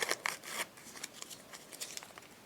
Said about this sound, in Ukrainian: Давайте розпакуємо пакетик і глянемо, що нам тут попалося